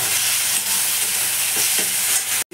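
Ginger garlic paste and ground spices sautéing in a hot pan, a dense continuous sizzle and hiss, close and steady, cut by a brief sharp break near the end.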